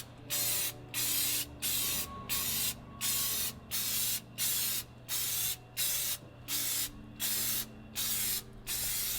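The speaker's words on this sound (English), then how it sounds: "what you want to do with the spray paint is just kind of press it and move it, short little strokes" Short bursts of a filler primer spray can hissing in a regular rhythm on a 1966 Buick Riviera, about a dozen quick sprays separated by brief pauses, close and fairly loud.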